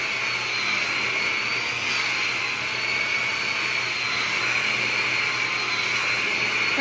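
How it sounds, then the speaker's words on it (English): A hair dryer blowing on hair gives a steady, loud, close rushing whir with a high motor whine that holds unchanged throughout, with no talking. "Blow dry it."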